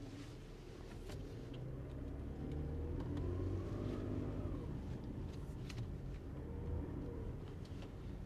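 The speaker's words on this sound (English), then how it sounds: "I'm gonna go into drive and let off the gas a little bit." A 2022 Toyota Highlander SUV driving along, a muted low engine rumble and road noise heard from inside the cabin, rising slightly as it accelerates, steady and faint.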